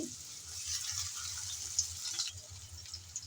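Chopped raw onion sizzles in hot oil in a pan while a green chili curry is being made. A steady, bright hiss holds up close for the whole stretch, with faint low knocks underneath and no speech.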